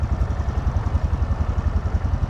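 A Renegade LTW 250cc petrol cargo tricycle engine pulls away in first gear, giving a steady, close, low chugging putter with an even pulsing rhythm and no talk.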